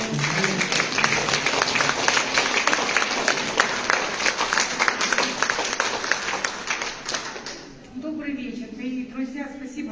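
Applause from an audience at the opening of a solo art exhibition, dense steady clapping running loud for most of the stretch before thinning out, with voices murmuring underneath.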